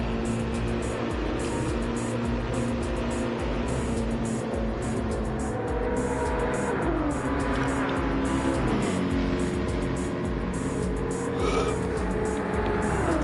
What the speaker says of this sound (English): Sweet, two Ferraris going at it between Intensivo and Lessie.